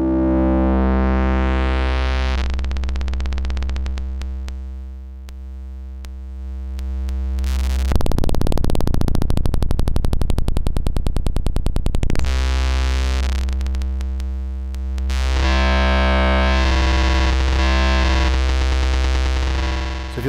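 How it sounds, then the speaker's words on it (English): Glitched, distorted synth tones from a Bastl Timber Eurorack waveshaper module with control voltage fed into its feedback input: buzzing harmonic drones that shift abruptly into a harsher, louder noisy section, then settle back into stacked tones. "if you like to explore with glitched out sounds, very careful additions of CV to the feedback input can get you some really strange effects"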